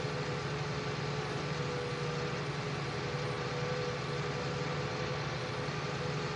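A tractor engine in the video game Farming Simulator 19 on PS4 runs steadily, a constant low droning hum with a faint high whine and no change in pace throughout.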